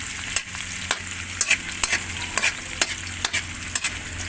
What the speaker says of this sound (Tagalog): Andiyan na yung bawang at sibuyas, pagkano na sila.